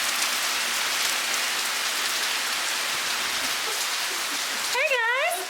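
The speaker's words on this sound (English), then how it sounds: "It is raining" Steady rain falls outside a hotel balcony at a resort lodge, a dense, even hiss of drops hitting surfaces throughout, with a voice briefly speaking near the end.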